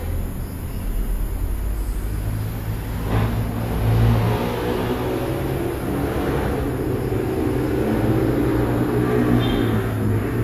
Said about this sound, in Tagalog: So maririnig yung sasakyan guys.